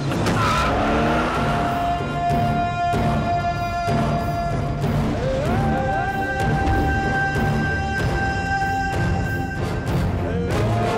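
A car pulls away with loud, squealing tires skidding over engine roar, the pitch of the squeal rising and sliding, heavy and close, with a dramatic score running beneath.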